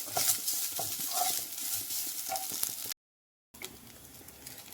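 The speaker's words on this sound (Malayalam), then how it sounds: "ഈ ബാക്കിയുള്ള എണ്ണയിലേക്ക് ഈ നാളികേരം നമുക്ക് കൊട്ടി കൊടുക്കാം" Dry scraping and stirring over a soft sizzle as grated coconut roasts brown in leftover oil in a pan, with a short silent gap near the end.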